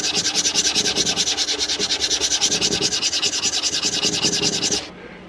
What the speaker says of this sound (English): I'll start filing away on this one like I did the